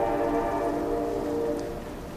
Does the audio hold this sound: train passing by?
yes